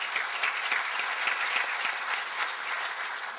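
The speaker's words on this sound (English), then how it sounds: "Let's give them a round of applause." Audience applause for a panel at a community opportunity event, a dense, steady wash of many hands clapping, fairly loud and sustained throughout with no voices over it.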